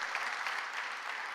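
Applause from an audience at a teachers' awards ceremony, a steady dense patter of many hands held evenly for a brief moment with no voices on top.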